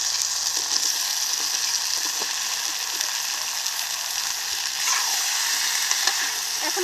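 Green jackfruit and potato pieces frying with spiced chicken in a pan give a steady, close hiss of sizzling oil with soft stirring clinks throughout, and no voices.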